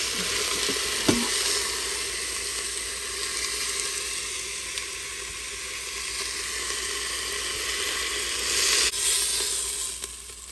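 Pork chops browning in a hot pan, a loud continuous sizzle and hiss holding steady throughout, with a brief tap of a utensil near the start and no talking.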